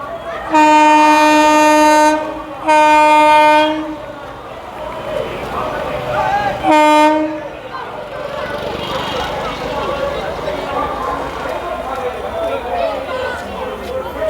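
A flower-decorated EMU local train pulls into Amghata station, its horn sounding two long loud blasts and then a shorter one, followed by a rumbling approach under steady crowd noise and people talking.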